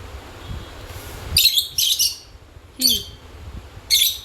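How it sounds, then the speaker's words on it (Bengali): Small birds chirp in short, bright bursts several times, with a low rumbling background and a brief lower call in the middle. "ও চিৎকার করতে কুঁ কুঁ কুঁ করে চিৎকার করবে পাখিগুলো"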